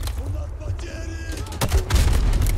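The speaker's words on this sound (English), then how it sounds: "Who the fuck is shooting me?" Gunfire in Call of Duty: Modern Warfare 2 Remastered, several loud booming shots and bursts over game effects, with a voice briefly audible in the mix.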